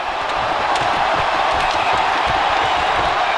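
A dense hockey arena crowd roars at full volume through the closing seconds of a Stanley Cup playoff game, a continuous wall of cheering and shouting with no breaks.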